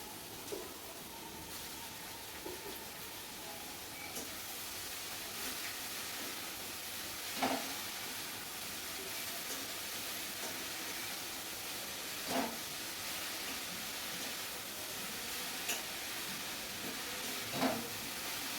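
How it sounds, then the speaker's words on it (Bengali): Potatoes fry for a mutton curry in a steady, fairly faint sizzling hiss, broken every few seconds by soft clinks and stirring bumps. "এখন আমি মাংসের জন্য আলুটাকে ভেজে নিচ্ছি।"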